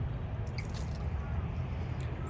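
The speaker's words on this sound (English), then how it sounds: "And I'm gonna pour coffee over my Ferro Rod." Coffee poured over a ferro rod makes a steady, close wet splashing and trickling that runs unbroken from start to finish, with no talking.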